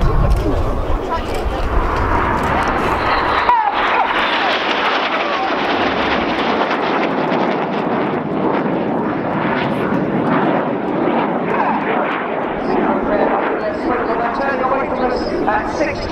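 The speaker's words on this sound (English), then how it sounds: "These 4 aircraft are now closing at 850 miles an hour." Four Red Arrows jets close on each other at an airshow, a loud continuous jet roar that swells and holds as they pass, with a commentator talking over the noise.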